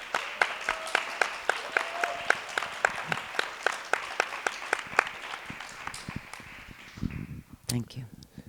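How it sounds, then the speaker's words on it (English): Sparse, evenly spaced claps ring out at a human rights closing panel, fairly quiet and thin, with a brief voice and some shuffling noise toward the end. "Please, a round of applause for Alex Andrews."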